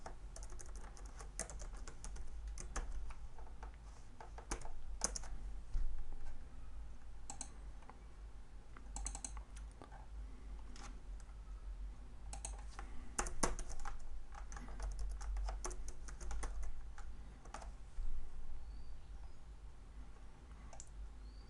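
Keys on a computer keyboard are typed in quick, light bursts with pauses between, mixed with a few mouse clicks, quiet and close with no voice heard.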